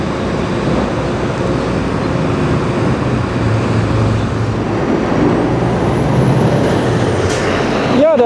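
A truck hauling a container drives away from a Stuttgart 21 tunnel construction site, a steady low diesel rumble and broad roar that holds evenly, ending with a brief squeal and rising whine near the close.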